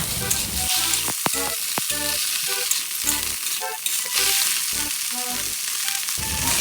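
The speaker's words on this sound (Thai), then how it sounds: "เราก็ใส่ดอกหอมที่ล้างไว้แล้วเรียบร้อย ใส่ไปผัดเลยค่ะ" Loud sizzling of shallot flowers stir-frying in a hot wok, with repeated scraping and clanking of a utensil stirring in irregular bursts.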